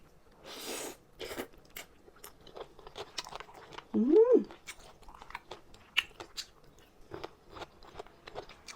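Someone eating a spicy Thai papaya salad with mantis shrimp, close wet chewing and crunchy bites repeating irregularly, with a brief murmur of voice in between.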